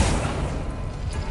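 The Accio summoning spell cast in Hogwarts Legacy makes a dense, steady rush of magical noise with a low boom underneath that lasts about a second without a break.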